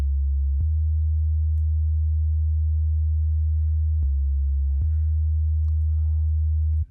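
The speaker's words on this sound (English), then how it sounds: "Yeah, it's a sub bass just like that" A deep, pure synthesized sub bass tone hums steadily, changing pitch a few times with soft clicks between notes before cutting off.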